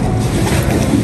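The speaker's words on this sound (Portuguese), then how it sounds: "Tá tendo muito vento aí, mexe o fundo da água." Strong wind gusting across the open shore of a lake in Italy, a loud, continuous buffeting rumble close to the microphone with no speech.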